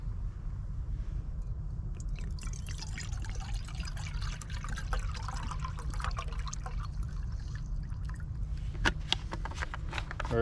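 Water trickles and pours steadily into a container at a lakeside campsite, a continuous liquid rush with faint dripping and splashing over a low background rumble.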